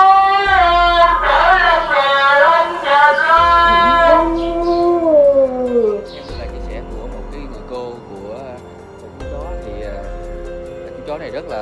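A dog lets out a long, drawn-out howl that rises and wavers for several seconds, loud and close, followed by softer whining tones while people talk nearby and a low engine rumbles.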